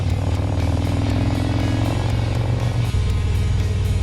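A group of twelve motorcycles heading uphill on a rural highway, engines droning steadily and loudly together with a constant rumble and mechanical clatter, heard close from among the riders, no voices.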